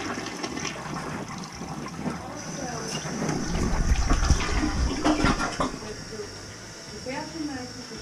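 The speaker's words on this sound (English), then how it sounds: "It's not a strong flush." A toilet flushes weakly during a main sewer clog job, a swelling rush of water peaking midway then draining off, heard close with people talking over it.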